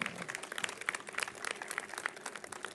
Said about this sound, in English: roar round of applause for our students